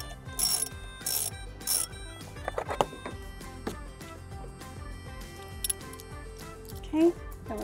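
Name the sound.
ratchet with 14 mm socket unbolting seat belt, 2008 Honda Accord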